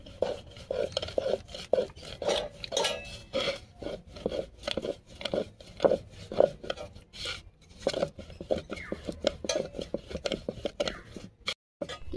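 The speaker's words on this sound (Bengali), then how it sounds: "একটা বেলে নিয়েছি, আর একটা বেলে নিচ্ছি।" A rolling pin rolls out puris of flour dough for sweet madhupuri made as a festival offering. Close, rhythmic rubbing and light knocks repeat steadily on the rolling surface.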